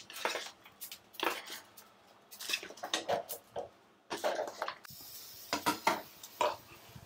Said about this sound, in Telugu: సరే కలుపుకుందాం ఇక.